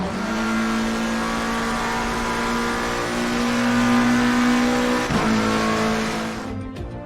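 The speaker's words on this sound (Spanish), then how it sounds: "hoy estamos en el circuito de Zandvoort con el McLaren 720" Loud sustained engine drone of a McLaren 720S GT3 racing car lapping the Zandvoort circuit in Assetto Corsa Competizione, holding a high steady pitch with a brief shift, then cutting off abruptly at the end.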